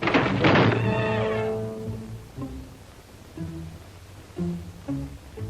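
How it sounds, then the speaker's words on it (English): A loud wooden bang rings out at the start as wind slams a shutter against a window, then several lighter knocks and rattles follow irregularly. "The wind slammed a shutter against a window."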